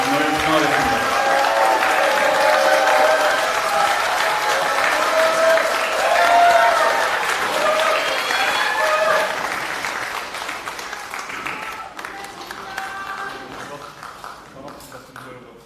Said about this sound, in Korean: 힘찬 박수로 조국 위원장의 말씀을 청하겠습니다